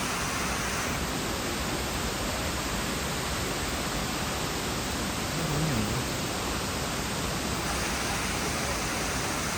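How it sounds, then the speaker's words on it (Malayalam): Water spills steadily from a pipe-like indoor fountain into a pool set with small rocks at Qatar's airport, a constant close rushing wash that holds level throughout with no break. "ഈ സൈഡ് വാട്ടർ ഫൗണ്ടൻ ആണ് ആ വാട്ടർ ഫൗണ്ടൻ ഒരു നല്ല രീതിയിൽ ചെയ്തിട്ടുണ്ട്"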